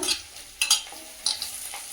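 Chopped green chilies sizzle in hot oil with lightly fried onions while a spoon stirs and scrapes the pan in a few sharp bursts.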